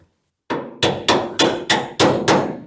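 A hammer drives bolts into the frame of a 1981 Ford F100 truck: seven sharp, ringing metallic strikes at an even, brisk pace, close and loud, with no talking.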